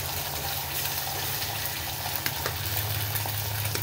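Two eggs sizzle and fry in a pan with chillies and turmeric for Telugu-style egg rice, giving a steady close crackle with faint stirring scrapes and no voices.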